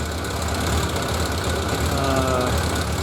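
A 1991 Suzuki 1100G motorcycle engine idles steadily nearby at about 1,000 rpm, a loud, even low rumble with a faint rhythmic knock throughout.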